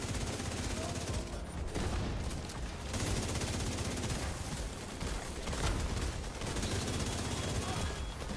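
Sustained light machine gun fire roars in The Division 2, a dense and nearly unbroken stream of rapid shots with only brief pauses, loud and close throughout.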